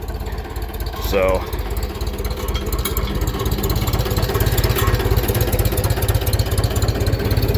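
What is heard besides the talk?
tractor engine idling with PTO disengaged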